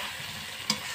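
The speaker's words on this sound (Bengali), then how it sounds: "এইভাবে নাড়াচাড়া করবেন, যদি নাড়াচাড়া না করেন তাহলে মাংসটি লেগে থাকতে পারে করার মধ্যে" Chicken curry with potatoes is stirred in a pan over low heat: a quiet, steady sizzle with a single brief scrape of the spoon near the end.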